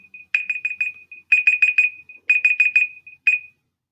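An electronic timer alarm beeps in rapid clustered bursts, four groups of quick shrill tones repeating and then stopping, loud and alone.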